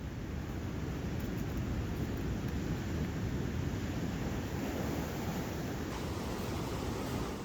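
Ocean surf breaking on a beach on Siargao island, where green jungle weeds cover much of the sand: a steady, loud, broadband wash of waves that holds without a break and with no talk over it.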